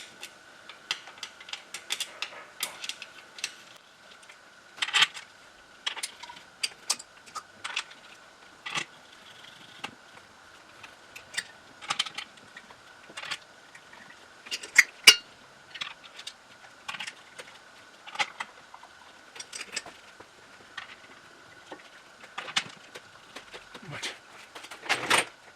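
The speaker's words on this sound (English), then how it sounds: "Alright, so we'll get all these bolts started." Bolts being threaded in by hand on a Toyota Prius engine during a head gasket job: a steady scatter of small close metallic clicks and taps over a faint constant hum.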